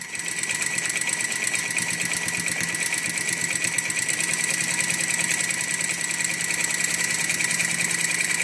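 A sewing machine runs steadily, topstitching along a folded edge of fabric. It makes a continuous, fast, even mechanical rattle at close range from start to finish, with no talk.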